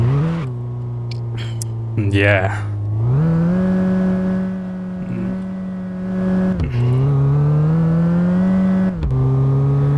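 A street truck's engine idles and revs in the driving game My Garage, a steady whining drone that rises and falls with several throttle blips and gear changes. A voice briefly speaks over it.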